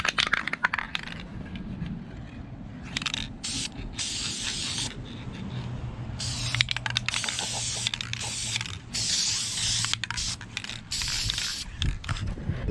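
Aerosol spray paint hisses in repeated bursts as another coat goes onto a boat engine starter from a Luhrs 28, with rattling can mechanisms and short gaps between passes, close and steady, no talking.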